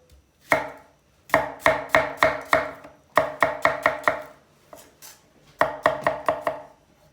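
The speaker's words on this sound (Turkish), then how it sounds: "Hemen sarımsakları doğruyoruz." A knife chops two garlic cloves on a board for köfte in a series of crisp, close taps, arriving in quick bursts of four or five strikes separated by short pauses, with no talking.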